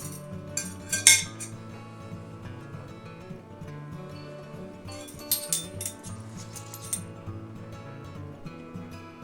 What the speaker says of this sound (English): you want to whisk these together until it's kind of frothy